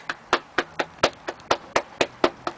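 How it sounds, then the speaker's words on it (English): About a dozen sharp hand claps in a steady, even rhythm, crisp and close, with no voices over them. "Everybody clap your hands."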